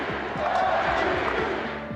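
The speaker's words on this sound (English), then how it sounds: "The crowd chanting MVP." A large crowd at a Seattle Mariners baseball game chants MVP in a loud, rhythmic, repeated cadence that fills the stadium.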